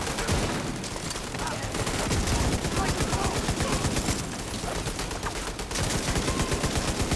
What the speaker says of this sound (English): Oh, that's your turret I just shot.